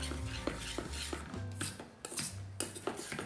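A spoon scrapes and clinks around a bowl while donut glaze is stirred with almond milk added, giving repeated short rubbing strokes and taps over faint tonal background sound.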